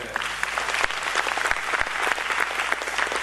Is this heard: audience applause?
yes